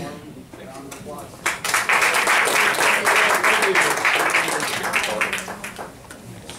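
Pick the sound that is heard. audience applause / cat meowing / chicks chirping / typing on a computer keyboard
audience applause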